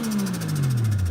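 A Toyota 1JZ car engine revs at a car meet with a steady mechanical drone, its low pitch sliding gradually downward as it winds down over about a second.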